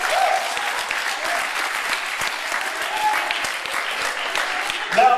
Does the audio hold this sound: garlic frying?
no